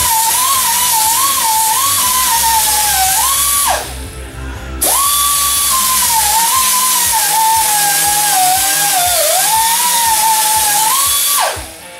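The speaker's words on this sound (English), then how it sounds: "Drilling holes in the frame is a blast, especially when you're laying underneath the frame to do it." Power drill boring holes through a truck bed frame, a loud sustained whine running for most of the time with a brief pause near the middle before starting again, then cutting off near the end.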